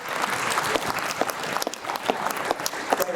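An audience claps at a business panel on energy investing, a dense burst of applause from a crowd that carries on steadily throughout with scattered sharper claps.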